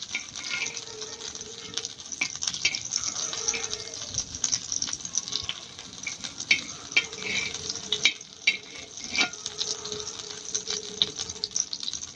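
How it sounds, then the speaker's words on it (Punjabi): Continuous sizzle of butter on a hot griddle with occasional scraping and spreading sounds, no talking. "ਤਵੇ ਤੇ ਪਾਵਾਂਗੇ ਜੀ ਮੱਖਣ ਤੇ ਇਹਨੂੰ ਚੰਗੀ ਤਰ੍ਹਾਂ ਮੱਖਣ ਨੂੰ ਖਿਲਾਰ ਲਾਂਗੇ"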